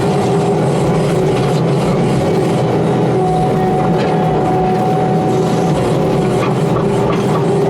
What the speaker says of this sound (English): Again, I can cut on big stumps. I can cut straight down like that.